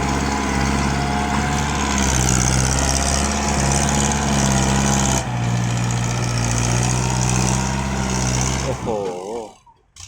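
A tractor engine labors loudly and steadily while pushing through heavy clay soil, a deep continuous rumble that dips briefly midway and fades out at the end, with a voice talking over it.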